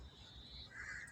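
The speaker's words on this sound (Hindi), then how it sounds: "चिड़ियों की, कौवों की," Crows and other birds call at dawn, faint distant caws and a higher bird note carrying over quiet background hum, with no talk.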